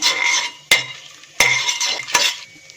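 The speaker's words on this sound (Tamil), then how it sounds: "இந்த முந்திரி பருப்பு கொஞ்சம் செவந்து வரட்டும்" Broken cashew nuts frying in a hot pan with spices, a steady sizzle broken by three sharp clinks and stirring scrapes of a spoon against the pan, close and fairly loud with no talk.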